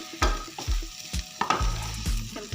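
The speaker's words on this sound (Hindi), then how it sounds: "हम तकरीबन 2 मिनट के लिए और भूनेंगे।" Milk halwa roasted in a pan, a spoon scraping and knocking against the metal in an irregular rhythm over a soft continuous sizzle, close and with no voices.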